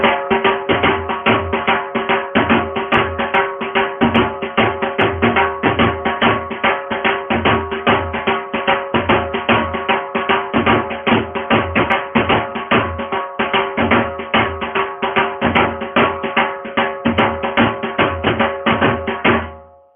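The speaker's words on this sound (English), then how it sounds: "So play the Chaal twice and Lambhi Chaal." A dhol drum pounds out a dense, continuous rhythm, the Chaal pattern played twice followed by the Lambhi Chaal, repeated through several cycles with steady loud strokes and no talk.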